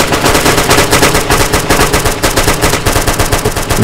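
Rapid automatic gunfire from a firefight in the military shooter ArmA 2, loud, dense and continuous bursts of machine-gun fire overlapping one another throughout, with no talk.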